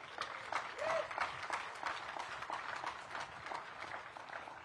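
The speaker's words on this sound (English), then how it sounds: "let's give all of the staff a round of applause" A crowd applauds event staff at a Bassmaster Elite Series bass fishing tournament weigh-in on Lake Oahe, giving a steady, moderately distant wash of clapping that holds evenly throughout.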